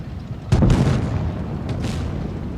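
Two sharp booms from a Jagdpanzer tank gun in a tank combat video game, the first close and heavy and the second lighter, each trailing off into a low rumble.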